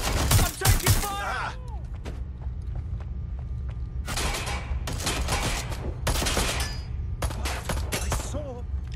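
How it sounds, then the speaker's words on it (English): Gunfire in the video game Watch Dogs: Legion, with dense bursts of rapid shots and clattering mechanical sounds in several loud clusters, split by quieter stretches of low rumble. A voice shouts under the shooting. "I'm taking fire!"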